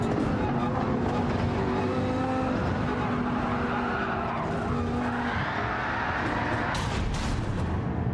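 Race cars roar through a Gran Turismo 7 race at Daytona in a Dodge Viper chasing a red Honda NSX, engines droning steadily near and loud with tire squeal and skidding, a voice talking briefly over the racing.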